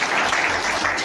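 Loud applause from an audience at a public gathering, a dense burst of clapping filling the short moment with no talk over it.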